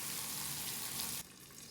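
Fat sizzles loudly in a hot pan during ramen cooking, a dense crackling hiss that drops suddenly to a softer sizzle partway through.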